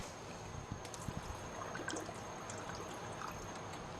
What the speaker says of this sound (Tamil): இன்னும் நம்ம ஒரு 1/4 லிட்டர் போல் தண்ணி ஊற்றிக்கலாங்க.